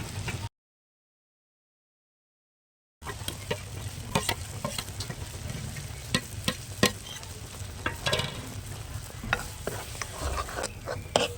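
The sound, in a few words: ground spice paste being sautéed in oil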